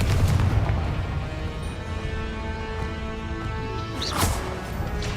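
Spell-blast explosions from the Confringo curse in the video game Hogwarts Legacy, a steady rumbling, booming barrage filling the mix with one brighter burst near the end.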